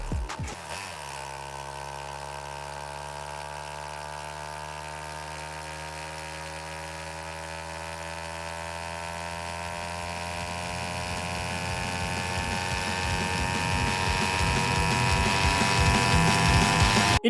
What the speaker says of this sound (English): The car is well known for its engine noise, a high-pitched, rustic tune